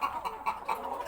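A hen that has stopped laying and is overweight makes several short, clipped clucks in quick succession, close by and fairly loud.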